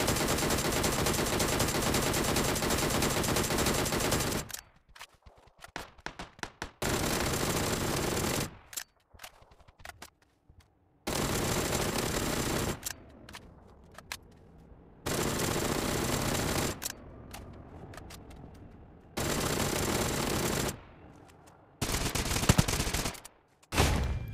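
Sustained bursts of 7.62mm automatic gunfire in the shooter game AKINTA, several long loud volleys broken by brief quiet gaps and scattered distant shots.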